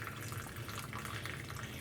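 Water runs steadily into a clear ice ball maker mold for a large crystal ice sphere, a continuous close splashing fill with no voices.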